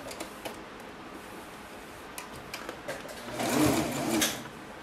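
An overlock sewing machine stitches the hem of a boxer, quiet light ticking at first, then a short, louder whirring run of stitching near the end.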